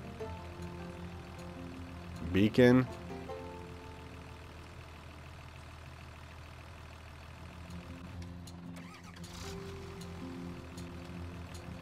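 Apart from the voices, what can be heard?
tractor engine running, Farming Simulator video game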